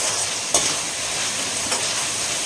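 Onion and tomato sauté in a pan for a country-chicken biryani, giving a steady, close sizzle with a couple of brief stirring scrapes.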